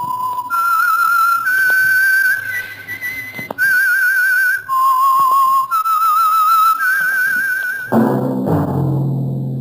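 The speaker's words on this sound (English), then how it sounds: "That whistle is your signal for the Signal Oil program, The Whistler." A solo whistled melody, the theme signal of the 1949 radio program The Whistler, carries a clear, wavering vibrato across several sustained notes, loud and alone, ending in a brief musical chord.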